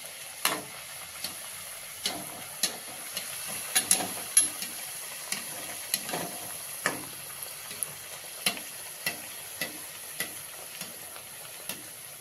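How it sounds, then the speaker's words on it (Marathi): Puris fry in hot oil with a steady crackling hiss, while a utensil lands a string of distinct, regularly spaced clinks and scrapes in the pan over the whole stretch. "आता हे तेल आपलं छान तापलेलं आहे. आपण ह्याच्यात सोडूया."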